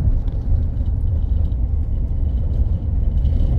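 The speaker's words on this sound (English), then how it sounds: "We're driving approximately 15 miles an hour." A car creeping at about 15 mph along a rutted dirt road in Macon County, Alabama, a steady, loud low rumble of tires and engine with no talking.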